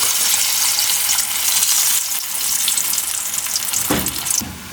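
Sweet potato donut snacks fry in hot oil, giving a loud, continuous hiss and crackle close up with a few brief bursts of louder bubbling near the end.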